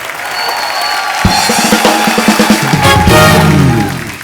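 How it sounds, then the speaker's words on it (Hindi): A studio audience on The Kapil Sharma Show claps for Ileana D'Cruz, a loud bright burst of applause that swells partway through, mixed with a band's musical sting and low drum hits. "तालियां इलियाना के लिए।"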